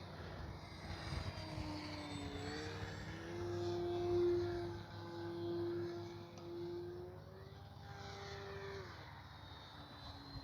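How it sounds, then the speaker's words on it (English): FMS Ranger 1220mm RC airplane flying overhead, a steady electric motor whine that rises and falls in pitch as the small model passes, moderately loud and continuous with outdoor background, no talk. "I absolutely love this little airplane."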